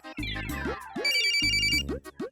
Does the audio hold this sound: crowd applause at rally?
no